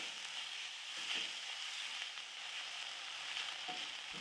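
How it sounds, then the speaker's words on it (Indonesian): Chicken pieces stir-frying over high heat in a pan give a steady, soft sizzle with faint scrapes from stirring, continuous and fairly quiet, with no talking. "Kita tumis ayamnya sampai berubah warna, masak dengan api besar supaya wangi."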